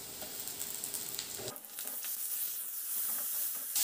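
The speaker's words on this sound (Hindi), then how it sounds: "अभी देखिए थोड़ा सा प्याज फ्राई हो गया" Onions sizzle and fry in a hot pan with asafoetida and ginger-garlic-green chili paste, a steady crackling hiss with a brief stir partway through, close and fairly loud.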